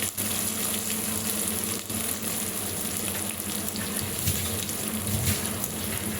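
Onions frying in a pan for a savoury pulao, a steady broadband sizzle that runs unbroken and fairly loud, with faint spatter and a few soft stirring knocks.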